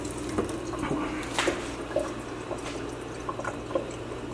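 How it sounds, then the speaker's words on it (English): A tap left running in a rental house damaged by squatters gives a steady, close hiss of flowing water, with soft splashes and drips over about four seconds and no voices. "Water's been on for God knows how long."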